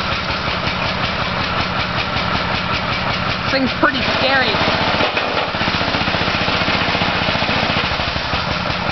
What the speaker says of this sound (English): Homemade quad burnout.